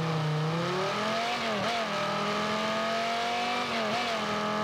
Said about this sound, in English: we'll be able to actually listen to the engine audio. So let's take a look at it really quickly for the Batman 1989 edition